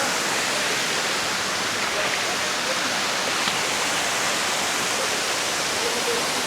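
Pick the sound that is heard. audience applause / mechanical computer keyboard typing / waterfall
waterfall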